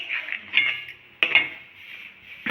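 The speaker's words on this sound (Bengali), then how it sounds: "দুধটা আমি নাড়তে থাকবো।" A spoon scrapes and clinks against a pan as thickened milk, cooked down to a malai-like consistency with saffron, is stirred, giving soft intermittent scraping with a couple of sharper metallic knocks, close by.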